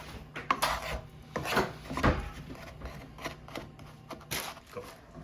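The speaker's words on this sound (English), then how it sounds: "we're going to stir that around until they both melt together" Brown sugar and cinnamon being stirred together in a pan: scraping, rubbing strokes of a utensil come in irregular bursts, close and fairly quiet.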